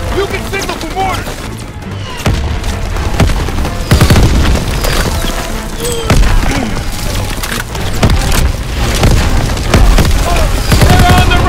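Mortar explosions in Call of Duty: WWII boom and crack over dense battle noise, heavy blasts, splintering debris and gunfire filling the scene loudly and continuously, with voices in the mix.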